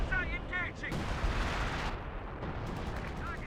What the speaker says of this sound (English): the Panzer 4 firing away